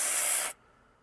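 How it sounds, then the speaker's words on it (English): An aerosol can sprays onto grimy electronics in one loud, steady hissing burst lasting about half a second, then cuts off abruptly into near silence. "I'm going to just give it a spray down here."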